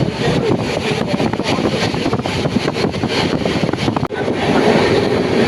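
A passenger train on the Sealdah to NJP route, near Bolpur Shantiniketan, rumbling steadily along the tracks, with continuous loud clatter and rushing noise throughout, a brief dip near the end.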